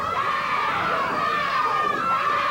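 A crowd at a 1984 Memphis wrestling match keeps up a constant roar, with shouts and cheers rising over the sustained noise of the arena.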